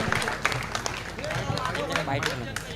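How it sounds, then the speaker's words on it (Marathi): Applause greets guests at the opening of a Navbharat Premier League 2025 cricket tournament, with scattered hand claps rising from a crowd over steady background chatter and a voice on a loudspeaker. "एकदा यांच्यासाठी जोरदार टाळ्या झाल्या पाहिजेत मित्रांनो"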